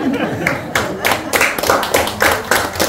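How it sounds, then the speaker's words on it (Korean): Rhythmic clapping from an audience at a lecture, loud and close, with about eight evenly spaced beats in unison. "박수 치면 확실합니다."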